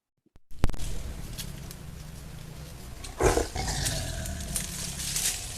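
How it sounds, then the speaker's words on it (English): A tiger roars on a camera trap recording, a loud close burst rising out of steady wild ambient noise midway through, followed by lower rumbling calls. "it's got sound as well, so we can actually hear a tiger roar"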